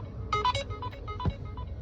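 A Rapido ride-booking request alert sounds from a phone: a short run of bright, tonal electronic beeps, fairly faint against a low background rumble, with a softer chirp near the end.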